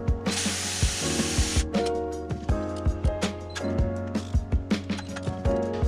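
Power tool driving a bolt and washer into a Miata crank pulley during a damper and timing belt job, a brief high whir followed by a rapid series of sharp rattling impact bursts, close and loud.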